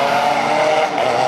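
A Porsche 997 GT3 rally car competing at the Rally Vinho Madeira 2019 roars loudly and close by with a sustained, throaty engine note that holds steady through the brief moment.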